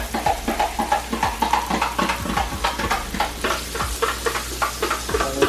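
A spoon stirs a cornstarch and cold water slurry in a small container, making repeated quick scraping and clinking strokes in a steady rhythm, close and moderately quiet, with no voices.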